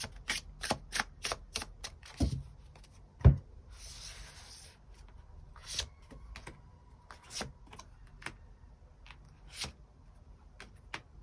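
Tarot cards are handled and shuffled up close, giving a series of sharp, quiet snaps and taps at irregular intervals, with a short soft riffle in the middle, in a quiet room.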